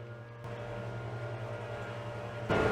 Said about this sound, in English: I apologize if you guys can hear a lawnmower in the background